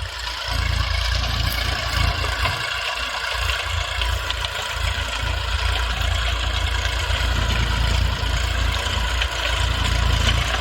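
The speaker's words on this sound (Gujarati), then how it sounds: "ટ્રેક્ટર સાથે રોટાવેટર ચાલુ છે" A tractor runs a rotavator through a field of wheat stubble being prepared for sowing urad, giving a steady, loud, continuous engine drone that holds even throughout without talk.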